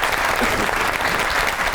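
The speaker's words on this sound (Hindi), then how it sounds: "दोनों मेहमानों के लिए बहुत सी तालियां" Studio audience applause for two guests on a comedy talk show, a dense, steady wash of many hands clapping at even loudness from start to finish, with no voices over it.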